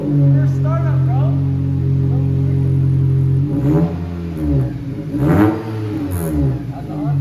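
First cold startup of a cheap Acura EL, a Honda-based car, on a freezing night: a steady engine drone and revving for several seconds, then people talking over the idle.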